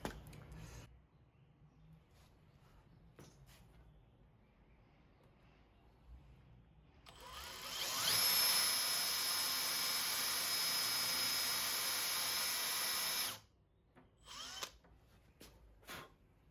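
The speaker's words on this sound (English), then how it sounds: "So I'm using a Forstner bit, and the depth of that is just about perfect." A power drill fitted with a Forstner bit bores into walnut for a rustic dresser, a loud sustained whine for about five seconds after quieter handling noises, then stops abruptly.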